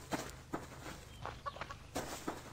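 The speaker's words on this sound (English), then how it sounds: "Here's a stupid chicken." Chicken in the survival video game Subsistence, clucking in short repeated bursts at a moderate distance with soft footstep-like sounds between, no talk over it.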